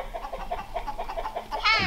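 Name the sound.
chickens clucking while chased by a dog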